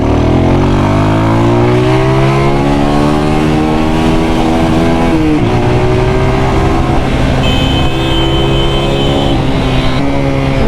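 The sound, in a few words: new 250cc Rebel T motorcycle being ridden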